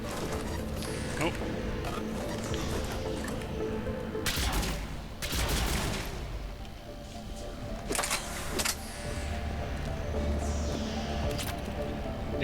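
Sci-fi firefight gunfire in the video game Mass Effect 3, with bursts of rapid shots and booming blasts over constant battle noise, loud and close, while voices speak over the action.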